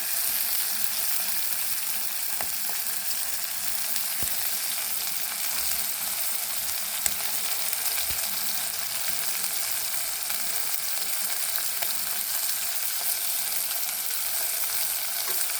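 Beef pieces fry and sizzle in a pan for a spaghetti beef stew, a steady, close crackling hiss throughout with a few sharp pops and no talking.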